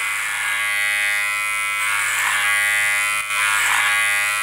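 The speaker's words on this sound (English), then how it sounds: "So I work clipper over comb down from the top, and then I work back up again just to cross check." Electric hair clippers cutting hair clipper over comb during a skin fade haircut, a steady close buzzing hum with slight dips as the blades pass through the hair.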